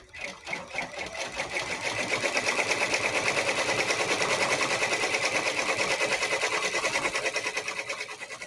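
An embroidery machine stitches felt onto a hat, with a fast, steady mechanical chatter that builds up at the start and then runs evenly and fairly close.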